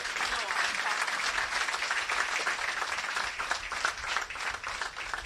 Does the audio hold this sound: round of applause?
yes